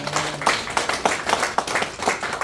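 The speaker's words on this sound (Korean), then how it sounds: "우리에게 귀한 말씀을 전해주신 목사님께 감사의 박수 드립니다" Applause from a congregation at a church morning worship service, a steady burst of many hands clapping with a rhythmic pulse, fairly loud and close throughout.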